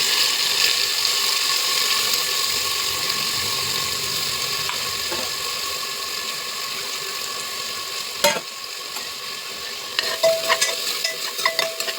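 Green chili, garlic, cumin, fresh coconut and coriander paste sautéing in a pan, a steady broadband sizzle throughout with occasional scraping stir clicks and a brief dip near the end.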